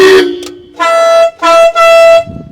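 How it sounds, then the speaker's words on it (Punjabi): A tractor horn sounds in loud, close blasts: a brief toot, then three longer honks in quick succession. "ਇਹਨੂੰ ਇੱਥੇ ਕਰੋਗੇ ਤਾਂ ਹਾਰਨਾ ਆ ਚੱਲਣਗੇ"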